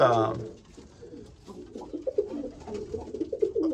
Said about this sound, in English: Birds quiet down, man.